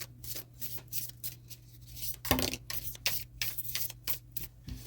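Tarot cards are shuffled by hand nearby in a quick series of riffling, flicking bursts with brief pauses between them and one louder snap partway through.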